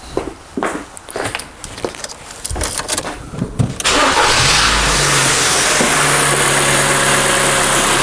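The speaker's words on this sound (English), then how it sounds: "Start engine." A Ford car's engine cranks over with a few uneven starter whirs and hesitations, then catches and settles into a steady, loud idle that continues to the end.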